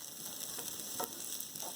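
Tomatoes cook in oil in a pan for channa dal, giving a faint, steady sizzle and gentle frying crackle with light stirring, and no voices.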